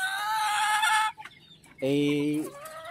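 A gold mother hen clucking nearby: two drawn-out, nasal vocalizations with a short pause between, over a steady background hum.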